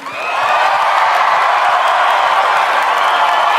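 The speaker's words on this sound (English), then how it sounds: "Let's give our contestant one more round of applause." A pageant audience applauds and cheers for a contestant at a Miss Universe preliminary, loud sustained clapping with whoops and crowd roar swelling in quickly and holding steady.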